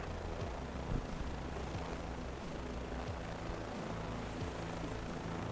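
A Pony helicopter in a flight simulator game hovers low, its rotor and engine giving a steady, continuous drone with a faint rhythmic thump, even and fairly loud throughout.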